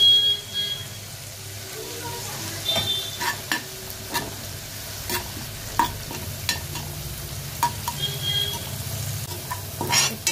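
Stirring ground mustard and ginger-garlic paste into onions in a frying pan for a long-bean sabji: repeated spatula scrapes over a steady low sizzle, close and moderately loud, with no clear talk.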